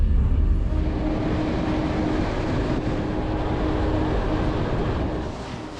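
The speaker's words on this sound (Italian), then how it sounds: "Ancora un'ora che siamo sopra il treno" A passenger train traveling through Bulgaria, heard from onboard as a steady low rumble and rolling roar that softens slightly near the end.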